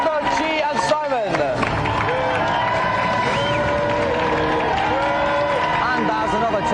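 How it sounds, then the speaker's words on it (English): A studio audience at a 1994 video game television show applauds and cheers, a steady wash of clapping and crowd noise mixed with whoops and busy babble throughout. "round of applause for our golden joystick winner, Alistair."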